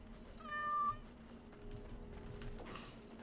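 A cat meows in the video game Dragon Age Origins, one clear drawn-out meow early on, fairly loud over a low background hum, followed by quieter ambient game sounds.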